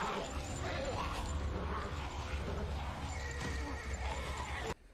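A horse whinnies amid a dense, busy background of clattering and rumbling, loud throughout before cutting off abruptly near the end.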